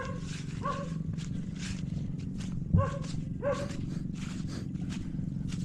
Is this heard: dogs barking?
yes